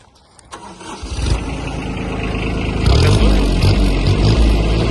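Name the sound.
mini tractor engine starting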